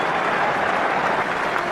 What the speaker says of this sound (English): Applause for Danny Grewcock, who's been replaced by Ben Kay.